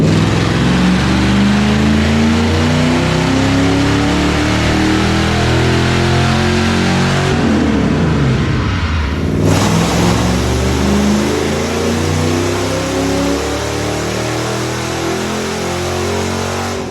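A budget 351 stroker V8 roars through a wide-open dyno pull with added timing, its loud, steady revving climbing in pitch, briefly dropping around the middle before surging on to the end, with no talking.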